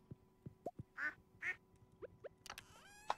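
Ducks on a farm in the video game Stardew Valley quack in a series of short, separate calls, quiet and spaced irregularly over a faint background.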